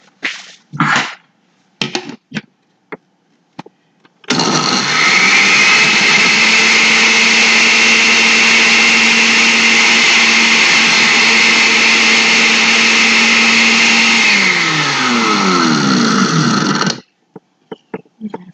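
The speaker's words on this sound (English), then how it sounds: "Go ahead and blend it." A few short bursts, then a loud blender whirs steadily for about twelve seconds blending aloe vera, its motor pitch shifting and dropping before it abruptly shuts off.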